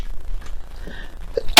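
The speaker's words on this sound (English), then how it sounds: "I just felt that sneeze come on" A single sharp, loud sneeze bursts out at the very end after a stretch of quiet breathing and faint background noise.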